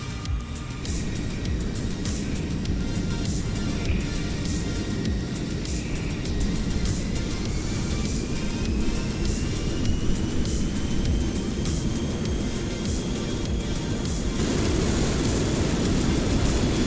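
A simulated F-14 Tomcat jet in Microsoft Flight Simulator roars in a constant, loud, dense wash of engine noise during its takeoff roll, with a faint rising whine and no voices.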